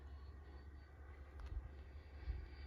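A Flex Innovations F100d RC jet flies overhead on a maiden flight, its engine a faint, steady whoosh with a low rumble that swells slightly, and no talk.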